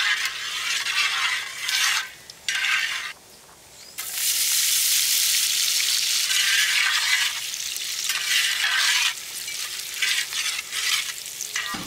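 Sliced onions fry in oil with whole spices (mace, nutmeg, cinnamon, cardamom and cloves) for a soya meal maker pulao, making a loud, close sizzle broken by stirring scrapes and brief dips in intensity, with no talking.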